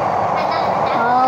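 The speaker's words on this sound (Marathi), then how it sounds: "म्हणजे बाकीचे जे मेट्रोने आपण जातो ना तसंच आहे, फक्त एवढाच फरक आहे की हे अंडरग्राऊंड आहे" An underground metro train runs with a steady, loud rumble and hiss that fills the carriage, while voices murmur beneath the noise.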